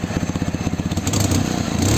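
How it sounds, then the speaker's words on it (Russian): A Ural motorcycle idles with its exhaust running, putting out a deep, bassy, evenly spaced thumping pulse that stays close and steady and rises slightly toward the end. "звук выхлопа мне нравится"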